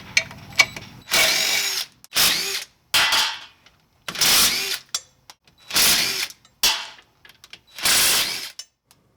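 A power tool removes the bolts from a Jeep's rear differential cover, running in about six loud, close bursts of whirring and ratcheting, each lasting around half a second to a second, with short silent gaps between them.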